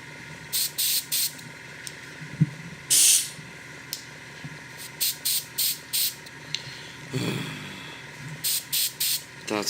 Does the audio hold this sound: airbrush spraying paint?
yes